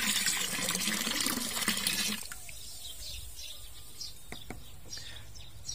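Water rushes loudly into a container for about two seconds, then cuts off, leaving quiet drips and faint birdsong in the background.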